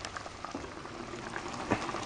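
A pork roast simmers in a covered cocotte, a steady soft bubbling with scattered small pops and spits close by.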